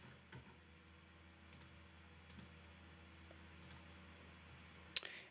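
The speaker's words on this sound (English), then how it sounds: "I'm going to click on all of the surrounding edges" Computer mouse clicks while selecting edges in Fusion 360: several sharp, quiet clicks, some in quick pairs, spaced irregularly over a faint background hum.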